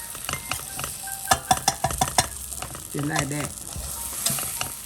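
A spoon stirs a teaspoon or so of oil sizzling in a pan for crispy smothered turkey wings, with a run of sharp utensil scrapes and clinks over a steady hiss, and a brief spoken phrase partway through.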